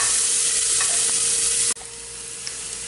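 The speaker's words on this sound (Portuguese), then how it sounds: "vamos acrescentar a carne e dar uma fritada nessa carne também." Beef added to a pan of golden fried onions for a stew, a loud, dense and continuous sizzle that drops sharply partway through, then carries on more softly, with no talking.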